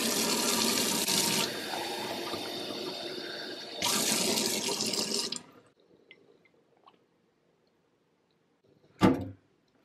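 Tap water runs steadily for a few seconds, pauses briefly, then runs again in a second steady burst before stopping; a quiet interval with a few faint clinks follows, and a short loud clatter near the end.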